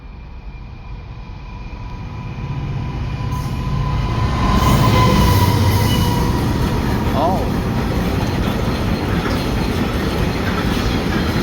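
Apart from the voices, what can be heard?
freight train passing a level crossing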